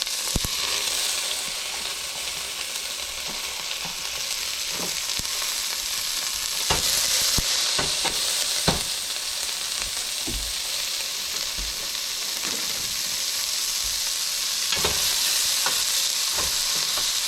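Onion and hot pepper fry in a pan with a constant close sizzle, punctuated by frequent sharp clicks and scrapes of a utensil stirring against the pan.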